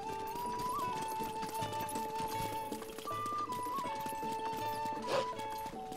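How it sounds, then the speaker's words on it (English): A horse in the video game Breath of the Wild clip-clops and whinnies over sustained tonal game music, a soft, faint hoofbeat patter blended under the melody, with one brief snort or neigh near the end. "Oh, look, there's a horse right there."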